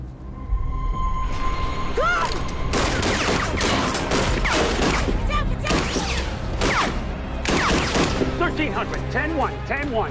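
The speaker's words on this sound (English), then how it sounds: "Shots fired at the police, civilians, and the station." Gunshots fired at police, civilians and a station during a drive-by shooting in Chicago: rapid, loud volleys of cracking shots in dense bursts, with shouting voices mixed throughout.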